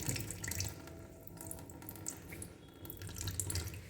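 Soaking water is poured off millet being prepared for a winter khichdi, a continuous splashing trickle of running water with small surges, close and fairly quiet, with no voices.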